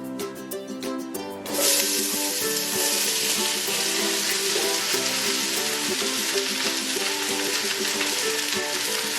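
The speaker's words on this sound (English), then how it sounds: "We're going to add all of our veggies to the pan." Chopped onions, carrot, celery and apple hit a hot oiled pan and burst into a loud, continuous sizzle that holds steady to the end, following a brief moment of music.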